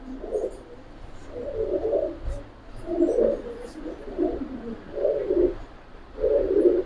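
Giribaz pigeons coo close by in repeated rolling phrases, about five bursts spaced a second or so apart over a low background hum.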